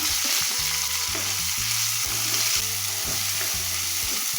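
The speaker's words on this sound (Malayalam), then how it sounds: "നമ്മുടെ ഉള്ളി ഇട്ട് കൊടുക്കാം" Chopped onion frying in hot oil in a pan for a fish gravy, a loud, dense, continuous sizzle with rhythmic stirring scrapes, close up and with no voices.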